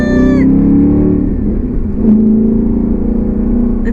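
An Audi S5 V8 with an Armytrix exhaust revs close by, a loud deep rumbling roar that climbs in pitch, drops back, then surges again with a throaty, burbling idle between pulls.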